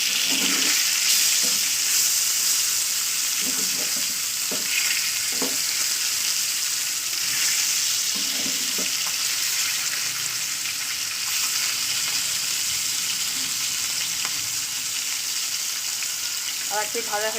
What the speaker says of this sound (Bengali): এদিকে আমি মাছগুলোকে ভাজতে দিয়ে দিয়েছি